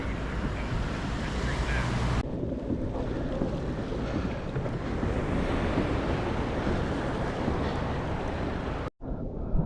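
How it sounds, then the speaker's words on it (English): Pacific Ocean waves around a kayak off Pacific City, Oregon, a steady wash of surf and water against the hull mixed with heavy wind buffeting the microphone, continuous and close. "I'm just out here enjoying the waves."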